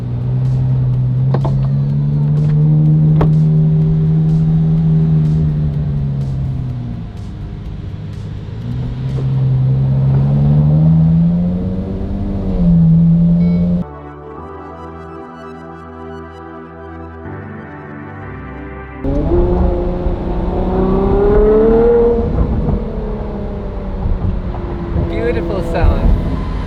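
Acura NSX NA2 engine heard from inside while driving with the top down, loud droning revs rising and falling with gear changes, a short quieter stretch partway through, and speech mixed in.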